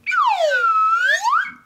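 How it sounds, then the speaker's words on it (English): A slide whistle plays a single continuous glide, swooping down in pitch, holding low, then sliding back up, loud and clear with no talking. "Mr. Slide Whistle."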